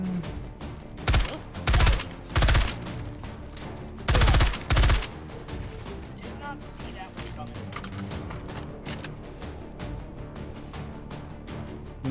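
300 Blackout rifle fire in the H3VR virtual reality shooter: several loud close bursts of rapid shots, then a steady stream of quicker, lighter shots continuing throughout.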